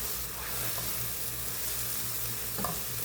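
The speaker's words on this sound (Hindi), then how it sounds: "ये जो हमने ज़ीरा, हरी मिर्च और कड़ी पत्ते का तड़का डाला है ना" A tempering of cumin seeds, green chilli and curry leaves fries in hot oil in a pan, a steady close sizzle with brief stirring scrapes and no talking.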